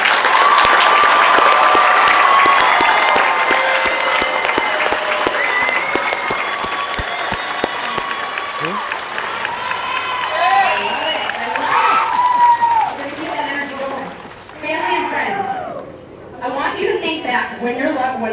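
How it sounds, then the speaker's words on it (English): Loud, dense applause with scattered cheers fills a USAF Basic Military Training graduation ceremony for new airmen, then thins out as a single voice begins speaking over the fading clapping. "Give them a round of applause, y'all."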